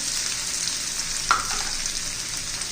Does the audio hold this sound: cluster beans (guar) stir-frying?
yes